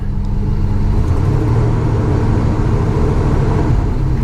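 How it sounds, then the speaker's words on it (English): A 1977 Chevrolet Silverado engine rumbles loudly and close, its low-pitched drone rising and holding in a steady rev without any voices. "You can hear me rev up a bit."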